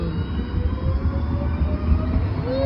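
A train rolls past close by, producing a loud, continuous rumble of wheels on rails with a high metallic squeal rising near the end.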